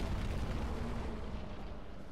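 A dense, roaring fire attack from the boss Ceaseless Discharge in Dark Souls Remastered rumbles continuously and loudly across the whole short stretch, without speech.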